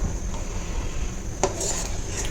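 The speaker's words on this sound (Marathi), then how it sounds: "तर मी त्याला ढवळून ढवळत राहते आणि ते ढवळत राहायचं आहे कंटिन्यू" A spoon scrapes and clatters against a pan while thickening mango pulp is stirred over medium-high heat for mango vadi, a close, continuous rubbing with one brief metallic knock; no speech.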